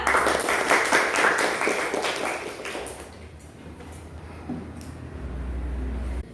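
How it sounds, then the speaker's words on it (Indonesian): A classroom of students claps together in a dense burst for about three seconds, then the clapping fades out, leaving quiet room noise and a low hum. "Mari kita berikan tepuk tangan untuk mereka berdua."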